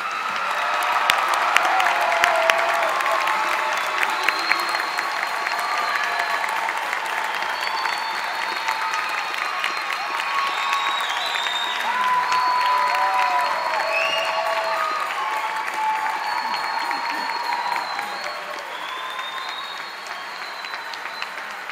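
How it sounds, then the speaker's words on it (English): A large commencement crowd at the Illinois State University College of Fine Arts applauds its graduates in loud, sustained clapping with scattered cheers and whistles, easing slightly in volume near the end. "Let's have one more round of applause for all of our graduates."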